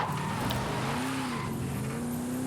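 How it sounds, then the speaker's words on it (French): Tires squeal as a 1973 Pontiac Firebird Trans Am SD-455, a rear-wheel-drive car, slides in the racing game Forza Horizon 5, with a sustained skid whine over a steady engine drone. "comme ça se voit que c'est un véhicule de propulsion, on voit qu'il dérape beaucoup"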